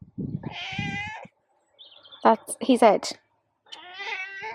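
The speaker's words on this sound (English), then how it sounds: "if you hear meowing, that is one of the strays." A stray cat meows several times close by outdoors, loud and drawn out, with a person speaking briefly between the meows.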